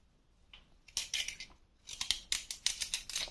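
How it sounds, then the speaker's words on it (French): Squash is peeled by hand with close, rasping strokes: a short scrape, then a run of quick repeated scraping strokes, with no talking. "Je vais éplucher les courges."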